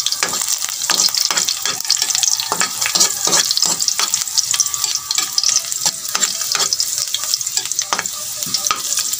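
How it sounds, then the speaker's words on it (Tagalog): Chickpeas and onions sautéing in a pan, a steady bright sizzle with frequent sharp clicks and scrapes of a spatula stirring throughout, close and loud with no talking. "So gigisa lang natin mga kabuli ag yung sibuyas nato."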